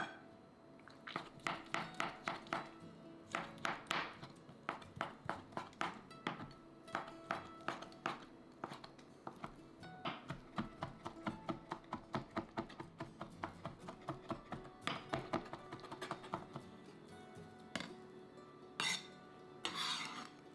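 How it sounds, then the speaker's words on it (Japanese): A knife minces rehydrated dried shiitake mushrooms on a cutting board, with quick rhythmic taps in bursts over about twenty seconds, close and clear with no voices. "干し椎茸は十分に戻してみじん切りにします。"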